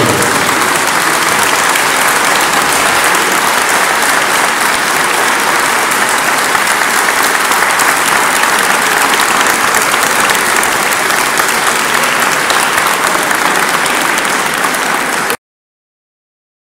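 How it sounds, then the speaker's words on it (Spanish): Loud, dense audience applause for a seniors' center choir in Luarca, Spain, continuing steadily for about fifteen seconds before cutting off abruptly into silence. "y un fuertísimo aplauso."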